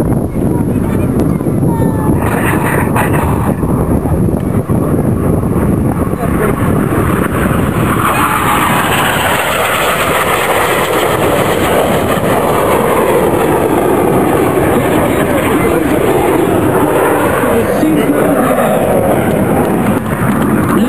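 Aerobatic display team jets roar through their finale manoeuvre at an international airshow, a loud continuous sweeping engine rumble with a shifting pitch as the aircraft pass, while a commentator speaks faintly underneath.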